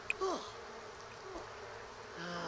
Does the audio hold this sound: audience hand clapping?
no